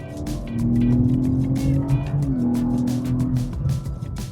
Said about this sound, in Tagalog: the engine just pulls